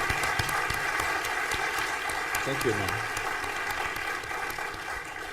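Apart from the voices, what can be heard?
round of applause for Adrian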